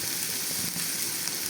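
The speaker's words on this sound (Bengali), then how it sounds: "এটা একটু ভাজা হয়ে আসলে দিয়ে দেব টমেটো, তারপরে দিয়ে দেব ডিম।" Capsicum, carrot and onion sizzle steadily in a pan, a dense continuous crackle of frying with no voices over it.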